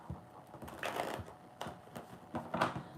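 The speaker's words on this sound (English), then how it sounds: "as I pick up the entire deck to shuffle it" A deck of tarot cards is picked up and shuffled, giving a run of soft papery riffles and slaps that rise and fall in several bursts, close and fairly quiet, with no talking.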